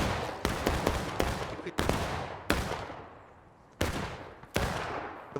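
Musket volleys ring out in the video game Generals at War during a large 110-player battle: about seven sharp, loud bursts of massed gunfire, each trailing off in a short rumbling decay before the next volley cracks.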